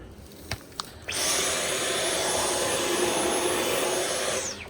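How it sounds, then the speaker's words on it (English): A vacuum cleaner in a collectibles shop switches on after a couple of faint knocks, then runs as a steady, loud whooshing roar close by, winding down at the end. "I want to vacuum that side."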